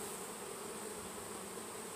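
Honey bees drone in a dense, continuous buzz from an open beehive box, close and steady throughout.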